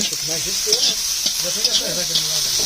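Chicken meat cooks in a pan outdoors at a weekly picnic cookout, giving a continuous bright sizzle. Lively talk runs over it throughout.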